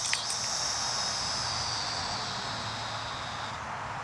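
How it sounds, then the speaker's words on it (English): Cicadas drone outdoors on a summer day in the Midwest, a steady high buzzing that fades slightly toward the end over a low background hum. "Stupid ass cicadas!"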